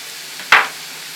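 Bulgur and green lentils pour into a cooking pot in one short, bright rattling burst that fades quickly, close and alone.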